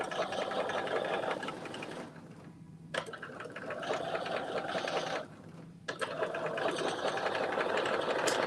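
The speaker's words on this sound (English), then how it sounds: "So you are going to create that loose stitch in your seam allowance along the entire bottom part." A sewing machine runs a loose stitch along the seam allowance at the bottom of a sleeve, with steady whirring bursts stopping twice for brief pauses before resuming, close and continuous.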